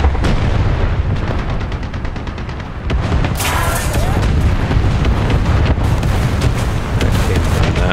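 Loud booming gunfire in War Thunder, the M2A4 tank taking shots in ground realistic battle: heavy close cannon blasts and rattling impacts over a dense rumbling background, with a voice speaking over parts of it.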